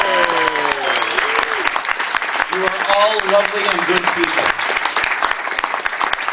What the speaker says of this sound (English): A round of applause for the recipients